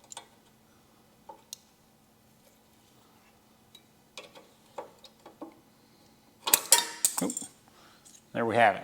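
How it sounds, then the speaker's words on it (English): A small screwdriver pries out the lock hardware on a Harley-Davidson motorcycle bag: sparse small metallic clicks and ticks, then a burst of louder clattering and scraping near the end. "I'm going to take a little screwdriver and I'm going to pop this out"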